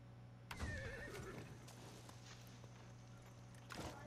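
A horse whinnies loudly and close at the start, near a tobacco plantation with a four-wheeler nearby, followed by a shorter snort or neigh near the end over steady low rumble.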